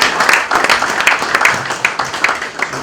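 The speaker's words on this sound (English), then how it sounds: "Please, can you give a round of applause to all these?" A crowd applauds at the inauguration of the council of the Nigerian Institute of Animal Science: dense, steady clapping close by, loud and continuous throughout, slowly thinning toward the end.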